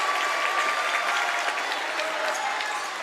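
A near-capacity crowd at the Nicky Rowe Gym, a high school basketball game between Rowe and McAllen, claps and cheers in a dense, continuous wash of applause filling the hall, loud and sustained throughout.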